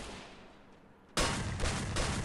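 In the Free Fire video game, a shotgun fires once with an abrupt loud blast partway through, followed by a sustained booming rumble after a quiet stretch.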